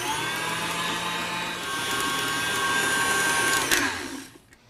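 A stand mixer whipping Italian meringue buttercream, a steady loud motor whine with a high mechanical tone running without pause, then winding down near the end, with no talk.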